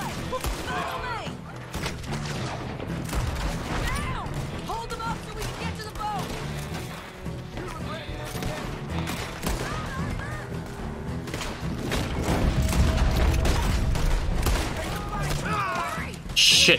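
Double pistol gunfire in Red Dead Redemption 2 crackles in rapid, overlapping bursts through a dense, chaotic wash of game noise, swelling louder toward the end.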